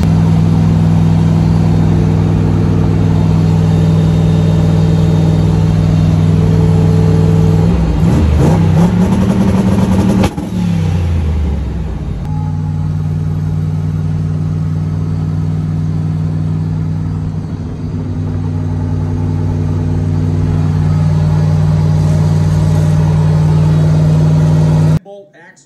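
A street car with a General Motors rear end holds a loud, steady engine drone, revs up sharply partway through, then settles back to a rumbling idle-like hum; a voice speaks over it.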